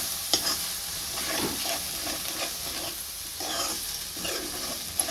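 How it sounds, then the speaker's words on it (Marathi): Onion-tomato masala paste fries in oil in a pan for a chickpea curry, a steady close sizzle with scraping stirs and a couple of sharp clinks, no voices. "तर बघा छान असं वाटण तळून झालेलं आहे, मस्तपैकी तेल सुटलेलं आहे."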